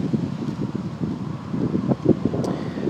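Steady low wind rumble buffets the microphone, with faint rustling and no voices.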